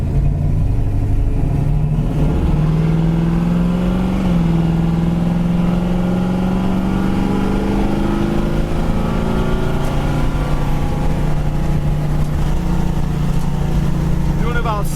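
A 1966 Ford Fairlane engine drones steadily while cruising at about 70 mph and roughly 3,400 rpm, a continuous hum with a slowly rising pitch and road noise throughout.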